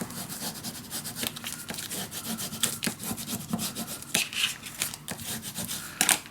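Bone folder or tool burnishing paper down on a handmade butterfly mini album, giving a steady close scraping rub with repeated short strokes, no voices.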